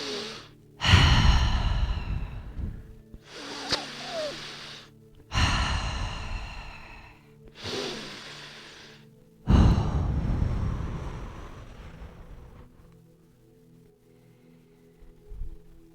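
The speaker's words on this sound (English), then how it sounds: "So I urge you to, in your own time, just breathe 3 deep breaths." Slow, deep breaths drawn in and let out during a calming yoga session, several long airy inhales and exhales with pauses between, close and fairly loud, no talking.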